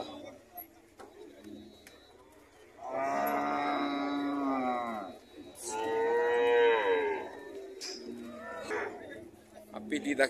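Cattle at the Águas Belas livestock fair in Pernambuco, Brazil, give two long, loud moos in succession against a quiet background of crowd murmur and faint voices, with a short call near the end.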